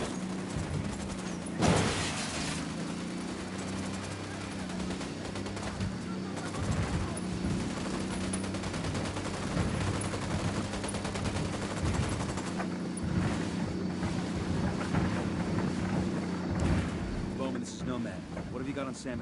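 Gunfire in a PS4 video game: bursts of shots with a sharp crack near the start, then sustained mid-level firing and battle noise mixed with engine-like drone throughout.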